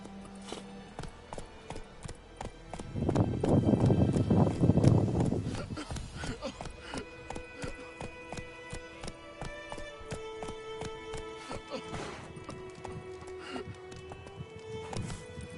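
Horse hooves galloping in The Witcher 3, a steady rhythmic clip-clop running through most of the clip, with a louder rushing burst of movement early on and game music and ambience underneath.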